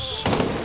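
A single sharp gunshot from a headshot in Medal of Honor: Warfighter, a sudden loud crack partway through that sustains briefly, following a faint tonal hum.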